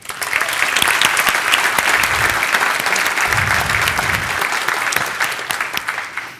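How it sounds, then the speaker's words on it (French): Enthusiastic applause fills the room at an awards gala honouring a vineyard team, a dense, loud wash of clapping that runs steadily for several seconds before tapering off at the end. "j'aimerais qu'on donne aussi une bonne main d'applaudissement au vignoble de Tête au vent et à l'équipe de l'Imiel"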